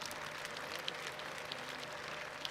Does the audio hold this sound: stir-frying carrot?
no